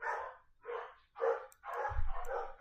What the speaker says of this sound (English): Ignore the sounds of the dogs. They're just barking